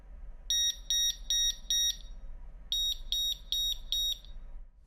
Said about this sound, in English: then I can be sure that I get the canopy alarms from that point